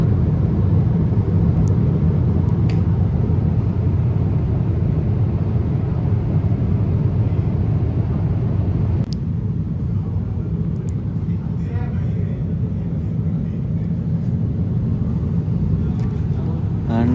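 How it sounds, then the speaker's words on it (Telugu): A steady, loud, low engine rumble fills an airplane cabin during a flight from India to the USA. It holds constant throughout with a faint shift midway and no speech over it. "ఫ్లైట్ ఎంత ఫాస్ట్గా మూవ్ అవుతుందో చూడండి,"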